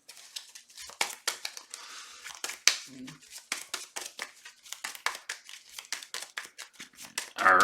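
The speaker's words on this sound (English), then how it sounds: "shuffle this encounter deck." Someone shuffles an encounter deck of playing cards during a tabletop card game, producing close crisp riffling and crinkling bursts in quick succession, with a brief low murmur partway through.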